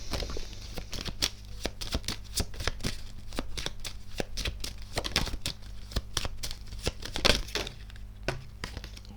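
Tarot cards shuffled close up in a steady run of quick, crisp riffling flutters and soft slaps, with a low hum underneath.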